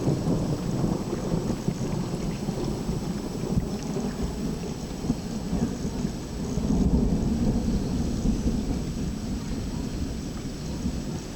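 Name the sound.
thunderstorm with rain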